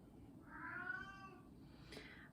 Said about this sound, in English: Sorry, I've got a cat.